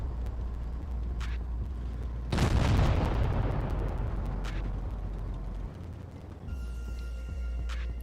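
Tank cannon shots in a team-based tank video game: a heavy boom erupts, rumbles and slowly decays, with fainter distant shots and engine hum around it.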